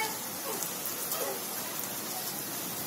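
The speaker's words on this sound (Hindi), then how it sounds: "बहुत ही तेज बारिश आ रही है।" Heavy rain pours outdoors as a steady, dense hiss of drops on surfaces, constant and fairly close, with no clear talk over it.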